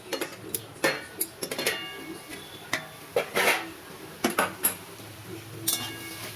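A metal lid clinks and rattles against a cooking pot holding potatoes and red spinach, a series of sharp close clanks and taps spread irregularly, with faint background sound.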